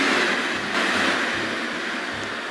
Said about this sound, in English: The train now approaching at Platform 5.